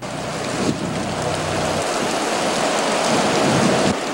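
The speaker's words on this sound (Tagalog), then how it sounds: "walang humpay na hagupit ng hangin at ulan" Heavy rain from Typhoon Nina pours steadily with a dense, hissing roar as strong wind gusts through, loud and continuous.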